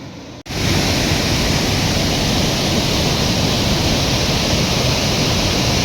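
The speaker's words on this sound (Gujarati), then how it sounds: "પાણી ધસમસતું વહી રહ્યું છે" A waterfall in Canada rushes with a loud, continuous roar that starts abruptly after a brief quiet moment and holds steady throughout, with no voices.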